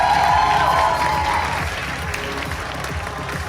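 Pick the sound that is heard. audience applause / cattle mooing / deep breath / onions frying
audience applause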